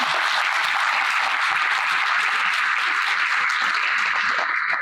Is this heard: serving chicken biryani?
no